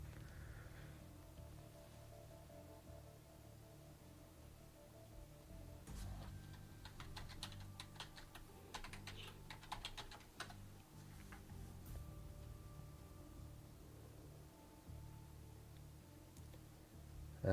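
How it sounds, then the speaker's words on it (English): Keys clack on a computer keyboard in a quiet room, a soft steady patter of taps that thickens into a denser burst of typing midway before easing off again. "Just typing in just that."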